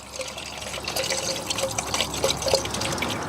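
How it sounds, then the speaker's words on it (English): Steady tap water pours and splashes into a car's coolant expansion tank, with small bright drips and gurgles throughout, during a BMW 7 Series coolant flush. "if we fill this up with regular tap water now then."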